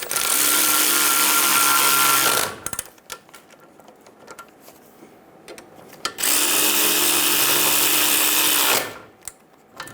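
Power tool driving down the brake caliper bolts on a 2000-2007 Ford Focus during a front brake job, two loud steady bursts of a few seconds each separated by a quieter pause with faint clicks.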